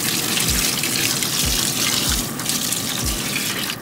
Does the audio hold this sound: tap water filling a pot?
yes